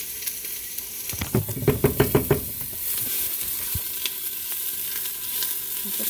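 Ginger sizzles steadily in a hot pan as it is sautéed, with a quick run of close stirring scrapes and taps over a constant frying hiss.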